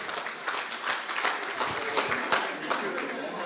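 Audience clapping at a golden wedding anniversary celebration, a moderate scattered applause of many hands, fairly soft and steady, with faint voices mixed in.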